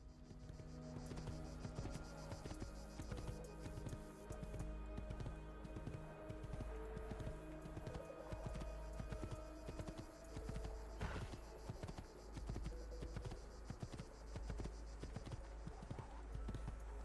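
Horse hooves clop in a quick, uneven rhythm in the video game Assassin's Creed 2, a steady run of soft thuds lasting throughout.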